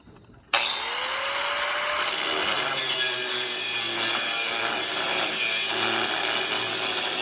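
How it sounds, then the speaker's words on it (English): An angle grinder cuts through four grade stakes at once during footing and foundation work for a shop build, a loud, steady abrasive whine that starts abruptly and holds continuously. "And just cutting them with an angle grinder here."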